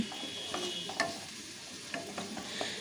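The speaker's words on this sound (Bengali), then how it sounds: "এখন সসটা দিয়ে একটু কষিয়ে নিচ্ছি" Fried cauliflower florets for cauliflower manchurian being stirred with sauce in a pan, giving a soft sizzle with a few light scraping knocks, quiet and close.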